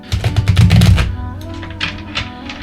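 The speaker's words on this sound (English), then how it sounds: "I'm just giving the cards a quick shuffle here" A deck of tarot-style cards is riffled and shuffled by hand, a dense burst of quick papery flutters followed by softer, scattered card slaps, close and fairly loud.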